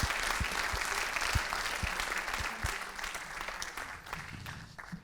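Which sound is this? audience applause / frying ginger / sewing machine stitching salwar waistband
audience applause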